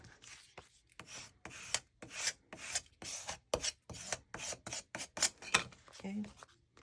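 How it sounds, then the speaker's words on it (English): Glued vintage book-page paper is burnished firmly by hand, giving a quick series of about a dozen close, dry rubbing strokes in an uneven rhythm. "Just burnish that down really good."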